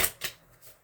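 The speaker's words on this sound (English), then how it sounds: "but you guys can hear the shuffling." Two quick, close riffles of a tarot card deck being shuffled, sharp and brief, followed by a softer rustle.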